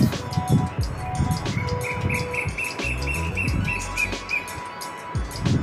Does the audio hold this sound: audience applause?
no